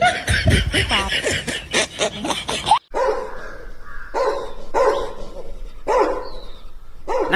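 A dog barks in a series of short, sharp yaps that ring out one after another, following a stretch of laughter and lively talk in a household.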